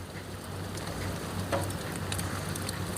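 Steady rain falling outdoors on a cold morning after snow has melted, a continuous even patter with scattered droplet ticks and a low hum beneath, fairly close and uniform throughout.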